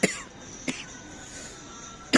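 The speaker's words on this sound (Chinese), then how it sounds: "老咳嗽啊" A man sleeping on a cold floor in a park during wind and rain coughs three times, short separate bursts spread across a couple of seconds, close and fairly loud over a quiet background.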